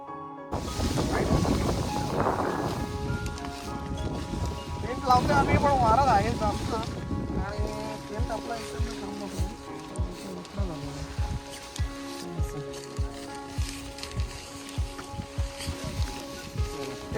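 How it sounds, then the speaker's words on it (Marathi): Strong evening wind sweeps across a campsite at Padmavati Machi on a hilltop fort, a steady, loud rush of blustery noise buffeting the microphone throughout, with indistinct voices mixed in. "संध्याकाळची हवा जोरदार असल्यामुळे टेंट लावायला खूप त्रास होत होता"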